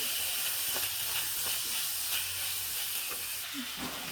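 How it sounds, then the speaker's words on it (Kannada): Small-diced potatoes frying in a pan for an aloo matar and soya chunk curry, giving a constant, even hiss and sizzle throughout with a few faint clicks and no talking. "ನೀಟಾಗಿ ಫ್ರೈ ಮಾಡೋಣ"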